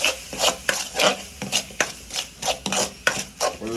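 Chicken and masala being stirred and scraped around a pan in a bachelor-room kitchen, a rhythmic series of close, gritty scrapes repeating roughly twice a second, with no talk over them.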